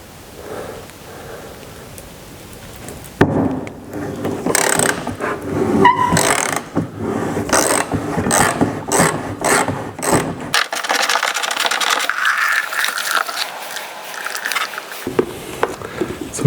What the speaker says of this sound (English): Let's try now with a 17, with a deep socket. Let's try to take this filter out.